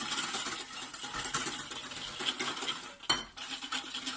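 Utensil scraping and clinking against a bowl while milk and cream are whisked together for chocolate French toast, a steady close-up mixing clatter with a sharper knock near the end.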